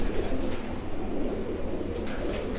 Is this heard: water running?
no